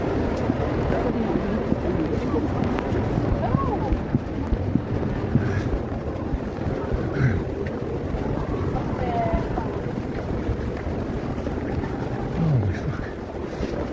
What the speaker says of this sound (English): It's like a fucking blizzard out here. It's windy as well.